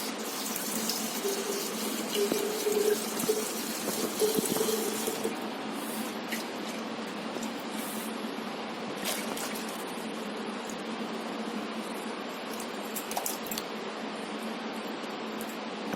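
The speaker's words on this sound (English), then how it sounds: "So here we are filling it with clean water" Clean water runs steadily from a tap into a pycnometer bottle in a soil lab, a constant soft hiss of flowing water with occasional faint clinks, fairly quiet and heard alone.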